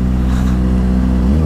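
A Kawasaki ZX25R motorcycle fitted with an Over Racing GP RS full-system exhaust revs loudly up close, a strong low droning engine note that rises slightly toward the end, with no talking.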